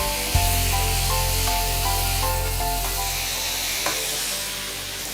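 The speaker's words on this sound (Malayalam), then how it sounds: "എന്നിട്ട് ഒന്ന് ഇളക്കി കൊടുക്കുക." Prawn curry sizzles steadily in a pan while being stirred, a constant loud frying hiss with a couple of sharp knocks of the utensil against the pan, heard alone without talk.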